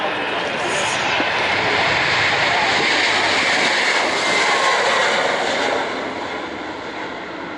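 A KC-30 air refueling tanker roars through its takeoff at an RAAF airshow display, a loud, sustained broadband jet engine rush that holds steady for several seconds before easing slightly near the end.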